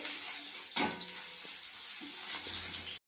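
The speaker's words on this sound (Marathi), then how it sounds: "मसाला असा मस्त असा फ्राय झाला आहे" Masala spices sizzle in hot oil in a kadhai for papad chutney, a soft steady frying hiss with a few scraping stirs, faint and close, cut off abruptly near the end.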